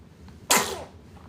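One sharp, fairly close sneeze bursts out in a quiet room and then trails off.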